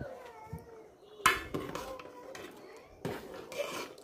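Large pot set on a home stove to cook rice clanks with a few sharp metallic knocks and scrapes, moderately close, in a quiet kitchen.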